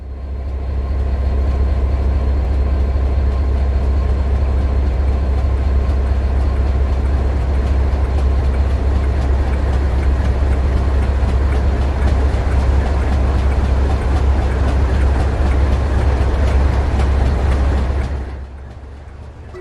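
A diesel locomotive train in a train simulator game arriving at a station platform, a loud continuous low engine rumble and rolling drone lasting nearly twenty seconds before cutting off abruptly near the end.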